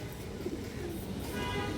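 Low, soft cooing from a pigeon at a loft of racing pigeons, steady and near with a murmuring quality, no clear speech over it.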